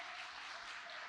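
A church congregation applauds during a worship service, a brief wash of dense, steady clapping heard from a distance and fairly soft.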